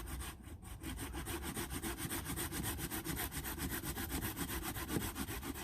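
A hand saw cuts through dry, dead wood gathered for a fire, with fast, even back-and-forth strokes in a steady rasping rhythm, close and clear with no talking.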